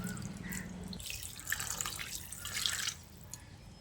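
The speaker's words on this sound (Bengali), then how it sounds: "এবার আমি আলু পটলটাকে সেদ্ধ করার জন্য দিয়ে দিচ্ছি পরিমাণ মতো জল" Water pours into a pan of spiced potato and pointed gourd curry, a soft splashing that swells in two bursts before tapering off, with no talking.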